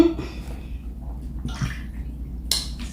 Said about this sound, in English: now we put in 2 cups of water.